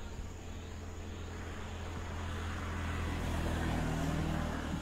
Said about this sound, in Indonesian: Nah ini mobil mulai dihidupkan dan maju lagi ke depan teman-teman.